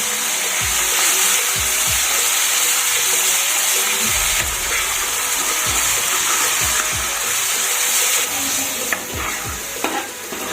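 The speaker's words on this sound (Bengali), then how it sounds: "পেঁয়াজটা কিন্তু নাড়তে নাড়তে সুন্দর কষানো হয়ে গেছে সুন্দর তেল ছেড়ে দিয়েছে" Sliced onions fry in hot oil with salt in a pan, sizzling steadily and loudly while a spatula stirs them in repeated scraping strokes, with no talking.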